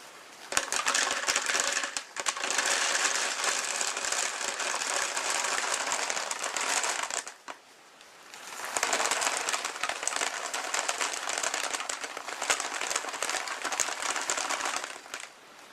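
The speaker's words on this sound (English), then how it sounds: "I'll pour the beans into the paper funnel somewhat slowly" Dry beans pour through a paper funnel into a storage container in a dense rattling stream, a long clattering rush that pauses briefly midway, then pours again.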